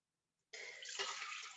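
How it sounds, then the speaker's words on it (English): Water pours steadily into a container for a magic trick, a soft continuous splashing stream that starts abruptly after a brief silence and runs to the end, close and fairly quiet. "I pour it in here,"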